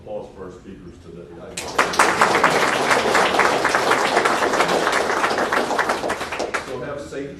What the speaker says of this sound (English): let's give a round of applause for our speakers today.